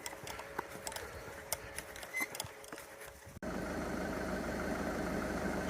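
A parked car's engine idles with a steady, even hum that starts abruptly partway through, fairly close, after a stretch of clicking and rustling.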